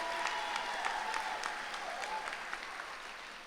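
Audience at the 2025 Connecticut History Day awards ceremony applauds the teachers, a steady wash of many hands clapping that sounds fairly faint and distant, tapering slightly toward the end.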